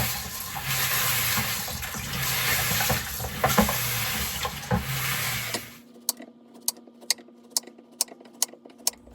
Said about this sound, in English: Give it all a wash first.